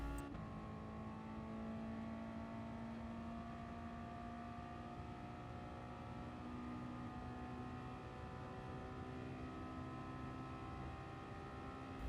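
A Mazda Roadster touring car in Gran Turismo Sport on Suzuka Circuit, its engine held at a steady high drone at full throttle, constant and fairly quiet with no talking.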